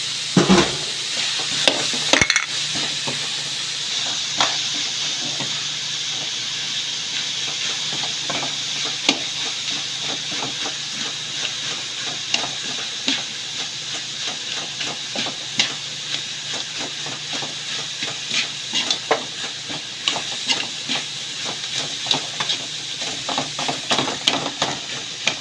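Chopped pork sisig sizzles steadily in a hot pan with onions, a continuous close frying hiss broken by scattered scraping stirs and clicks of the spatula, with no talking.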